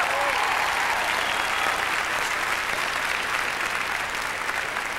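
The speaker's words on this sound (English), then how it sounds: "Yes, it's a good thing you applauded" Sustained audience applause fills a hall at the 1998 East Coast Music Awards after an orchestra-backed performance. Dense, steady clapping carries loud and even for the whole stretch, with no voices rising above it.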